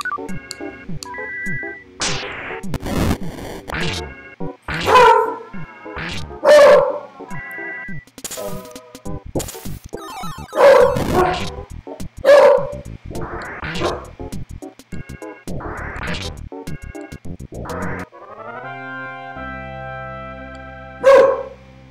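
A dog in the game EarthBound barks at people, repeating synthesized yaps and bow-wows in irregular bursts throughout, mixed with electronic game music and effect tones.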